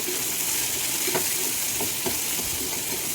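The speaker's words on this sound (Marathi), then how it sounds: "भेंडी पण 5 मिनटं चांगली तेलामध्ये परतून घ्यायची" Okra with chillies frying in hot oil gives a dense, even sizzle and hiss from start to finish, with faint stirring scrapes now and then and no voices.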